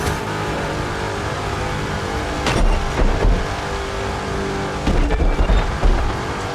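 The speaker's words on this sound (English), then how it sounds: "Friggin' Fiat monster truck over here." A Fiat monster truck in The Crew 2 drives through a monster truck race, its engine a loud steady roar with bursts of crashing impacts as it runs over trees and obstacles.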